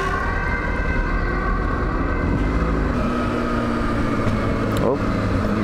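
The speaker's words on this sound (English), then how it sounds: "Oh, it's an ambulance!" An ambulance siren wails with rising and falling tones, fairly distant, heard from a motorcycle under steady traffic and road noise.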